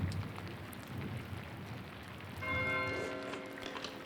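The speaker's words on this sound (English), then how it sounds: "Why does Matthew ring the bell?" Church bell in the medieval monastery game Pentiment peals partway through with a steady, ringing resonant tone over a soft rain-like hiss, moderately distant and without speech.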